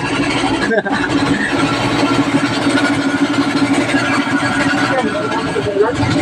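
A new motorcycle engine idles close by with a steady, loud mid-pitched rumble, broken only by a brief dip near the start, in an outdoor roadside setting.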